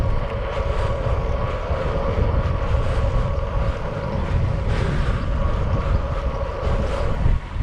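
Strong headwind roaring steadily across the microphone while cycling downhill toward Lyme Regis in Dorset, a continuous loud rushing buffet with no letup.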